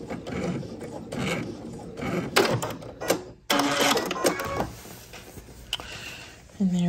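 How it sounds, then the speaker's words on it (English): Serger back stitching a knit neckband, busy mechanical clatter and whirring in short bursts and stops, fairly close, with a few scattered clicks and a voice speaking at times. "let's do some back stitching"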